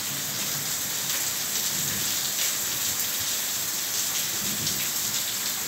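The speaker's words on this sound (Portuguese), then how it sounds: "Ó, e os trovões aí" Heavy rain drums on without a break during a storm in Ribeira do Pombal, Bahia, a dense steady wash with soft, distant thunder rolling underneath.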